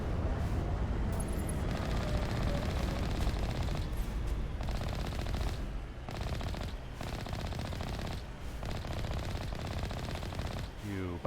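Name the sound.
enemies shooting in the video game Mass Effect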